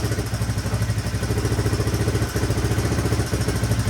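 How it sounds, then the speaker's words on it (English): An old 1983 Honda XR200R motorcycle engine idles steadily with an even, loping putter and light mechanical clatter, close and continuous with no talking. "That engine sounds pretty quiet too."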